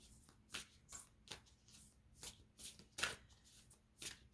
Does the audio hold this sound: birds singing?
no